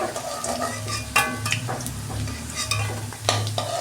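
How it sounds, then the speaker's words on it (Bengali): Steady sizzling of koftas frying in hot oil, with a utensil stirring and scraping the pan now and then. "এইভাবে আমি সব কোপ্তাগুলো ভেজে নেব"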